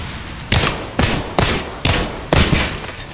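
Gunfire in the shooter game Apex Legends, five sharp, loud, evenly spaced shots roughly half a second apart, each a broadband crack with a short decaying tail over a noisy background.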